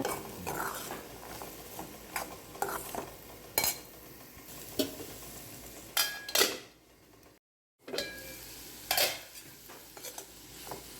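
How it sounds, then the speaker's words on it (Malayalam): Spoon stirring chopped carrots with masala in a pan for carrot mezhukkupuratti, with irregular scraping and clinking strokes over a soft continuous sizzle, near and alone, briefly cut to silence midway. "ക്യാരറ്റ് ഒക്കെ ഇട്ട് നന്നായിട്ട് ഇളക്കി കൊടുത്തതിന് ശേഷം"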